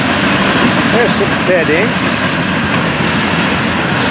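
A Florida East Coast freight train rolls past close by, a dense steady rumble of cars with faint wheel squeal, while someone talks over it throughout.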